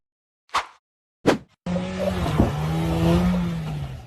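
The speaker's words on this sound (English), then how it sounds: "The off-road buggy sped over the tire obstacle, reared straight up into the air, then landed safely on all four wheels before continuing up a wooden ramp" Off-road buggy engine revving hard as it climbs over a tire obstacle and up a wooden ramp, preceded by two short sharp bursts, then a sustained loud rising drone for a couple of seconds.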